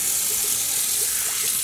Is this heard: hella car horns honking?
no